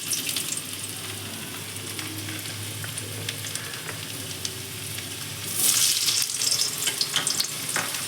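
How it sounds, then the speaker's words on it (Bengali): Cut potatoes are lowered into hot oil in a wok for matar paneer, giving a soft, steady sizzle close by that swells into a louder, brighter frying hiss toward the end, with no voices. "কেটে রাখা আলুগুলো এখন ভেজে নেব। যে কড়াইয়ের তেল গরম হয়ে গেছে, এখন আস্তে আস্তে ছেড়ে দিচ্ছি।"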